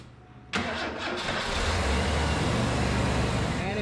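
A 1990 Ford F-150 engine cranks briefly and catches abruptly, then settles into a steady, loud idle close by.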